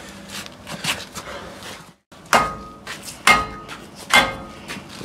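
A hammer strikes a brake rotor on a Jeep to break it loose from a badly worn wheel hub bearing assembly, landing three or four sharp metallic blows at uneven intervals amid quieter shop clatter.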